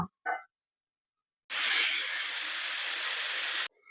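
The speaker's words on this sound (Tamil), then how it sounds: "பூண்டு இஞ்சி பெரிய வெங்காயம் ஃபஸ்ட்டு இதை சேர்த்து நல்லா வதக்கிக்கிறோம்" Garlic, ginger, onion and coconut sizzle in a hot pan in a steady, bright hiss lasting about two seconds, following a couple of brief faint kitchen sounds, then stopping abruptly.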